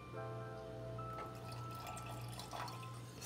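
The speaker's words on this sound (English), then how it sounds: "I'm going to be pouring this into my gravy." Turkey drippings poured into gravy in a kitchen make a faint, soft liquid trickle and patter over a steady low hum, without talk.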